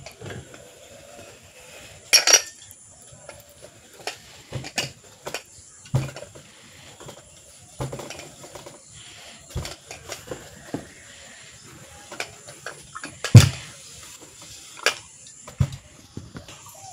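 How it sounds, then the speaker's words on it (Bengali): A metal pressure cooker is pressed over folded clothes in place of an iron, giving sparse soft knocks and brief metallic clunks against a quiet room, spaced a few seconds apart. "এভাবে ভাঁজ করে নিয়ে আবারও এইভাবে প্রেসার কুকার দিয়ে এক সাইড দিয়ে এইভাবে ইস্ত্রি করে নিচ্ছি"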